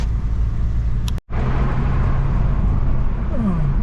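An automatic car drives through busy Medellín traffic with a steady, close rumble of engine and road noise inside the cabin and a brief dropout partway through.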